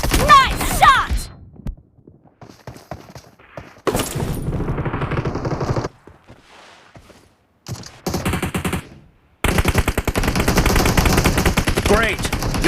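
Gunfire in the mobile battle game PUBG, played on an iPad 7th generation. Bursts of rapid automatic shots alternate with short silent gaps and a few single cracks, loud and close, and a game voice briefly calls out between them.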